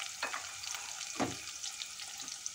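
Onion sizzles faintly in hot oil in a pan, a soft continuous frying hiss punctuated by a couple of brief stirring scrapes.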